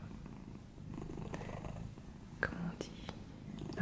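A cat, originally a stray, purrs softly and steadily at close range while a person talks quietly over it.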